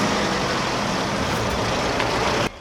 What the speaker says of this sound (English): Then you hear it, the low, heavy growl of an engine.